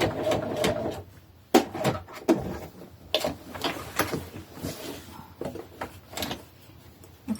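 Sewing machine stitching through layers of denim, giving a quick mechanical whir and clatter in short bursts with brief pauses in between, close and moderately loud, with no talking.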